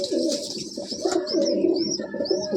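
A Madrasi pigeon in a loft coos repeatedly in low, rolling calls, close by, with faint chirps higher up.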